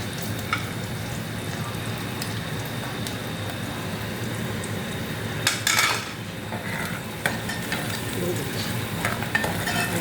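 Onions fry in a pan until browned for a tomato gravy, a constant close sizzle with occasional clinks of a spoon against the pan and brief stirring scrapes, no speech.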